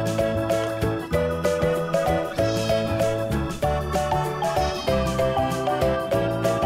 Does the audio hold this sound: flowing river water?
no